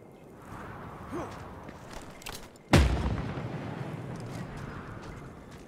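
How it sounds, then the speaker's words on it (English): Thunderstick explosive weapon detonating in the Mad Max video game, a single sudden loud blast followed by a rumbling decay, preceded by quieter game ambience and faint rustling. "Apparently that explosion wasn't close enough."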